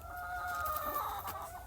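Faint clucking from a flock of chickens and a rooster carries over a brief stretch, soft and a little distant with no voices.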